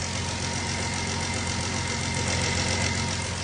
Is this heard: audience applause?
no